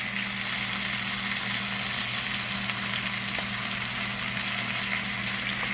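Chicken drumsticks fry in hot oil with a dense, steady crackling sizzle that stays close and constant throughout, with no voices.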